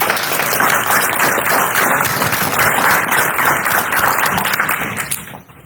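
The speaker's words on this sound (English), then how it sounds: "So one more round of applause for that." Audience applause at an engineer day award ceremony, a broad sustained wash of many hands clapping for about five seconds before fading out abruptly at the end.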